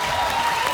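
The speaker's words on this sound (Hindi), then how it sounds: "अनिल सर के लिए जोरदार तालियां" A studio audience at a comedy talk show breaks into a short burst of steady clapping for actor Anil Kapoor, dense and even but cut off after less than a second.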